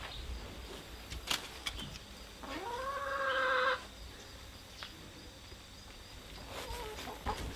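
Chickens clucking in a caged-in backyard chicken run on a homestead, a few sharp calls followed by a drawn-out rising squawk, then scattered softer clucks, fairly close and with no talk.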